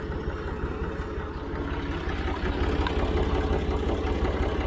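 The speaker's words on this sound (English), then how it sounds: "this is a Model 50 Massey Ferguson diesel" A Massey Ferguson Model 50 diesel tractor idles steadily nearby, its low, even engine chug running continuously on its own and growing slightly louder toward the end.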